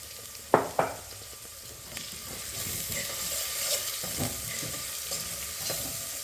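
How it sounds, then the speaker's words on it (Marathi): Onion sautéing with salt in a pan for Maharashtrian masale bhaat, a gentle steady sizzle with two sharp clinks of a spoon against the pan near the start and softer scraping stirs after. "त्यातच आपण मीठ टाकून घेणार आहे म्हणजे कांदा लवकर परततो"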